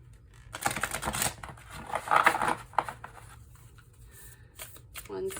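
Tarot cards shuffled for a reading, a dense papery riffle and patter running through the stretch in bursts, with a voice speaking faintly in the background.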